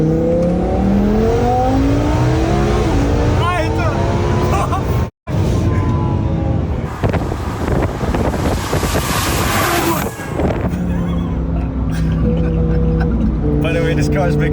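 A stage 4, 1800 HP twin-turbo Lamborghini Huracan Performante on regular fuel accelerates hard on the German Autobahn, engine rising through gears with a brief cut between shifts, heavy wind roar throughout and people talking over it.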